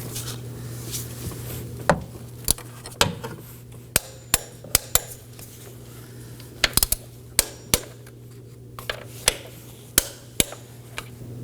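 Transmission mount bolts on a 2018-2024 Chevrolet Equinox are tightened with a torque wrench, producing a series of sharp, close metallic clicks and knocks at irregular intervals over a steady low hum.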